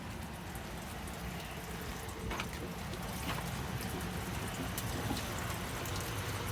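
Water draining out of a well system during monthly maintenance: a faint, continuous trickling and splashing hiss with a few soft drips, steady throughout and without talk.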